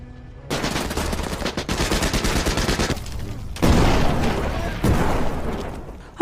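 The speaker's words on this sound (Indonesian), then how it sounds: "Bruno pun menyuruh asistennya yang bernama Wolf untuk menembak Atami" Film scene gunfire: a dense, continuous burst of rapid shots with booming impacts, running several seconds with a short break in the middle, loud and close.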